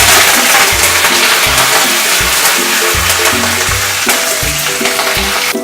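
Fresh curry leaves hit very hot oil in a pan while making bhindi kadhi, giving a loud, close, steady hissing sizzle with crackling pops throughout, gradually easing slightly toward the end.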